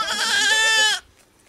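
Honamli goats and kids bleat in a farm setting near Antalya, one loud, wavering, nasal bleat lasting about a second before cutting off into near silence.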